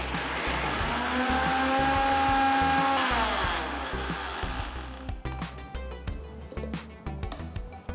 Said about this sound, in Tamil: இப்போ இதை மிக்சர் ஜாருக்கு மாற்றி நல்ல பவுடராக அரைச்சிக்கலாம்